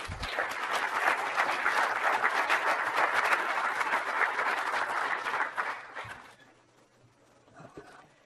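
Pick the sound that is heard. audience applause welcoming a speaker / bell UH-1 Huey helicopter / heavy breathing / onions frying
audience applause welcoming a speaker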